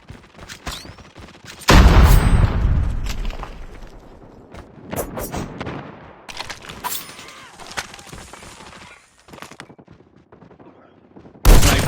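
Video game gunfire rattles through a battle royale match with a legendary gun: a loud burst, then scattered shots and rapid volleys of varying loudness, ending in another sharp burst.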